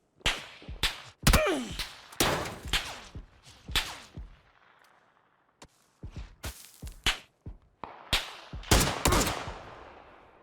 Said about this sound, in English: SLR is a very loud weapon without a silencer